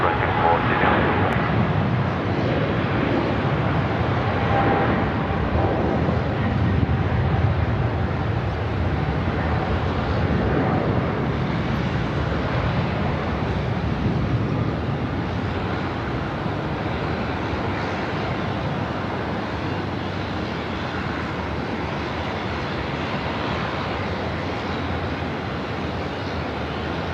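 An aircraft lands at Sydney Airport with a steady, broad engine roar that holds at an even loudness throughout, while faint voices murmur underneath.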